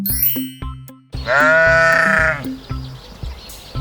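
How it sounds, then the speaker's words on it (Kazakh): A single loud, wavering sheep bleat up close, preceded and followed by short musical notes. "Бұл қойдың дауысы."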